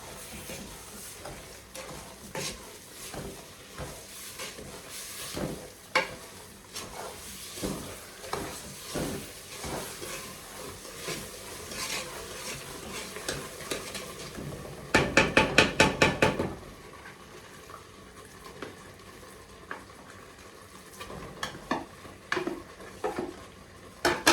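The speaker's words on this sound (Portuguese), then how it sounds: "Vamos deitar uns bocadinhos assim a marmelada e vamos batendo." Quince marmalade flavoured with port wine, cooked the old-fashioned way, being beaten in a pot: steady knocks and scrapes of a spoon against the pot, with a brief louder rattling burst in the middle.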